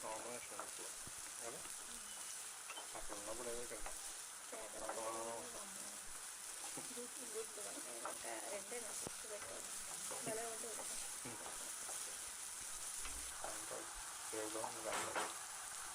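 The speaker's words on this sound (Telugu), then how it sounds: "ఉల్లిపాయ ముక్కలను ఒకసారి బాగా కలుపుకోవాలి." Onion pieces fry and are stirred in a pan, a soft continuous sizzle with scattered spatula scrapes, fairly quiet, with faint voices murmuring in the background.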